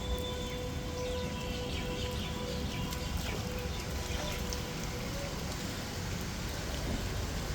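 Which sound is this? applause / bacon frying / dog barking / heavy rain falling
heavy rain falling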